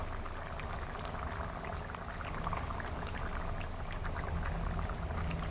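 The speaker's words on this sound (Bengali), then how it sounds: "জলের সঙ্গে আলুগুলো ভালোভাবে মিশিয়ে নিয়ে 1 থেকে 2 মিনিট ফুটতে দিব।" Potatoes simmer in water for an egg omelette curry, a dense bubbling and gurgling of liquid that runs steadily and evenly throughout, with no talking.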